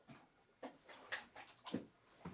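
A trained dog pants and whimpers faintly in short repeated bursts, close but quiet, at an auction setting.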